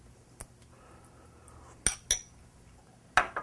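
A spoon clinks against a bowl while mustard goes into a simple marinade for braised rabbit, with a few sharp, separate taps scattered across the moment and quiet room tone between them.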